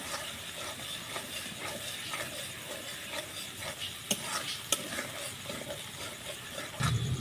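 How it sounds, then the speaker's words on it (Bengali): Tomatoes sautéing in a pan for a paneer and papaya restaurant-style vegetarian dish, giving a steady close sizzle and hiss with occasional stirring scrapes and clinks throughout. "টমেটোর যত পর্যন্ত গলবে না তত পর্যন্ত কষিয়ে যাব এইভাবে"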